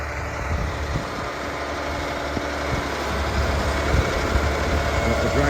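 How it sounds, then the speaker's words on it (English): A tractor engine idles with a low, steady rumble and faint mechanical vibration, continuous and fairly quiet throughout, on a farm while dragging a drag implement through soil. "You can hardly hear the tractor running."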